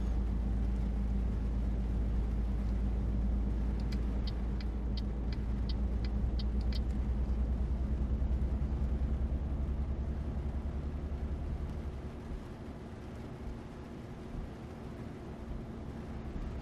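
Truck engine in Euro Truck Sim 2 rumbling low and steady while driving along a road behind a lorry, a constant close drone that softens slightly near the end.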